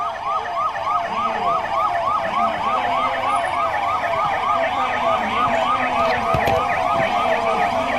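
An emergency siren wails steadily during a civil defence mock drill, its rising and falling tone repeating in a fast, regular cycle, loud and close, with faint traffic underneath.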